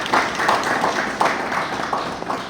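An audience at a ceremony in Haiti applauds steadily, a dense wash of many hands clapping together without pause, loud and close throughout.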